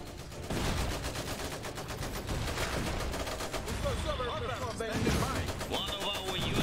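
Dense rattling gunfire in the Iron Harvest strategy game, continuous bursts layered under battle effects and brief in-game voice lines.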